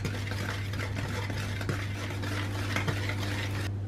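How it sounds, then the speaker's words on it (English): A whisk beats flour, baking soda, salt and cocoa powder together in a big bowl, giving a continuous close scratchy swishing with faint taps against the bowl's side and a low steady hum behind it. "Whisk this together."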